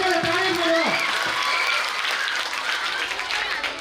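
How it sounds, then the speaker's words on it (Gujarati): An audience at a school science fair claps to reward a correct quiz answer, steady close applause that fills the whole moment, with a voice speaking briefly over the start. "તાળી મારો"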